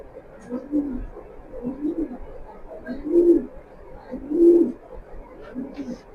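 Racing pigeons kept in pairs give low, repeated coos in a slow rhythm close by, with some swelling louder than others.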